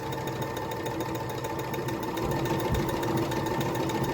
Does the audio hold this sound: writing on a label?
no